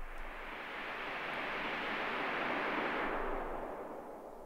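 An Akai Force playing the Fabric Synth Haunted House noise patch holds one sustained note, a broad airy hiss that swells gently, peaks in the middle and fades slightly toward the end.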